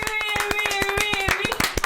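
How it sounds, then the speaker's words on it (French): Studio audience applause fills a French television magazine set, steady dense clapping from many hands throughout, loud and close with no talk over it. "on reprend la salle d'applaudissements s'il vous plaît"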